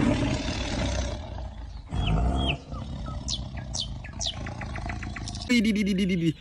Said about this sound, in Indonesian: Wow, ini harimau teman-teman.